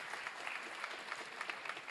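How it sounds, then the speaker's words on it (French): A conference audience applauds the event organisers, a steady wash of many hands clapping close and fairly loud from start to finish. "on peut les applaudir"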